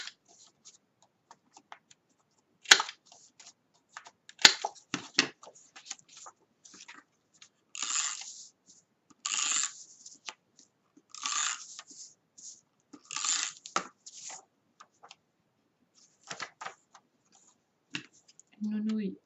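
A handheld corner punch snaps repeatedly through the corners of a paper tag, giving sharp, close clicks and short crunching presses spaced a second or two apart with quiet gaps between, and no voices.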